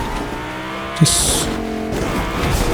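Half-wrecked car driving in Fortnite: a close engine hum with a sharp knock around one second, a brief high squeal, then the engine tone rising and falling.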